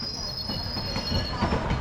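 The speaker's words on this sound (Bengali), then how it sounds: "দুর্বার গতিতে ছুটে চলা আমাদের ট্রেনটি গয়া স্টেশনে গিয়ে পৌঁছল সকাল সাড়ে ছটার মধ্যে" A train rolls into Gaya Junction in Bihar, a steady close rumble of wheels on rail with a thin high metallic squeal running throughout.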